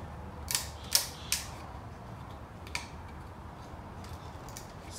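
A screwdriver snapping off wood between closely spaced saw cuts while making a simple wooden stool: three sharp cracks close together, then a fainter snap over a quiet room.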